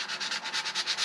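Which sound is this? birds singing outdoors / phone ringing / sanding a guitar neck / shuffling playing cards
sanding a guitar neck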